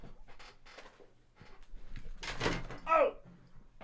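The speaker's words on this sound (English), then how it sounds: "me shut this door" An indoor door is pushed shut with a muffled thud and a brief rattle, close and fairly loud, while someone talks just before it.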